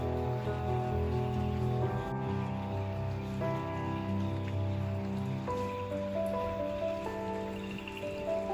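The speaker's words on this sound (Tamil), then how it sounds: "இங்கே வந்து நைட் ஆகிடுச்சு அண்ட் செம்மையாக மழை பெய்யுது." Heavy rain pours steadily on a forest at night around a wooden house, a dense continuous hiss of drops close by with no break and no voices.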